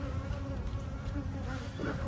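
A dense, steady buzz of honey bees swarms close around an open hive being worked, a continuous droning hum with small shifts in pitch and no pauses.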